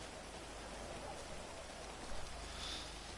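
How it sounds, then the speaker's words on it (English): Downpour in GTA V, a steady wash of heavy rain with a faint brighter patter near the end, continuous and fairly soft. "Oh, the rain starts coming really hard."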